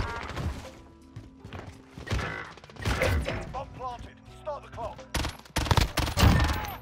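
Gunfire from a weak-rated rifle in Modern Warfare: scattered single shots and short bursts with sharp cracks and thumps, growing into dense, loud volleys near the end, with game sounds in between.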